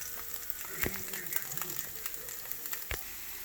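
Vegetarian chorizo sizzling in a pan for breakfast tacos, a soft, steady frying hiss broken by a few sharp clicks and taps of a utensil.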